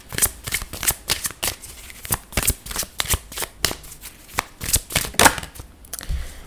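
A deck of reading cards is shuffled continuously up close, a rapid, crisp riffling and flicking that pulses steadily throughout with no talking.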